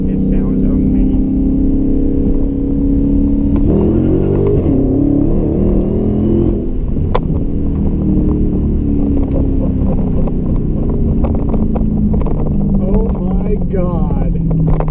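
A 2017 Dodge Hellcat's engine roars and revs loudly and continuously, with rising and falling pitch from a close in-car position, while a person talks over it.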